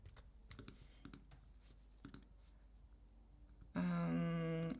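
A few scattered keystrokes tap on a computer keyboard in short clusters, then a loud steady tonal buzz cuts in near the end.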